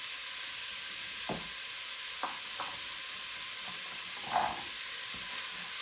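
Asparagus and onions sauté quietly in a pan for a vegan lemon asparagus pasta, giving a soft, steady sizzle with a few light clinks and scrapes of stirring, fairly faint and without talking.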